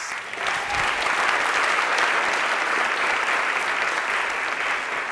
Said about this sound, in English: let's send Kevin back to his seat with some applause.